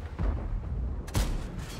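A tank cannon firing in World of Tanks: one deep, booming shot with a sharp crack near the middle, set against low rumbling game noise.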